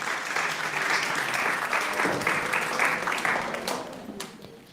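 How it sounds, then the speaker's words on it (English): At a graduation ceremony for a classical Indian music academy, the audience gives a warm, sustained round of applause for performers and a composer, dense clapping that fades slightly toward the end. "Another well-deserved round of applause."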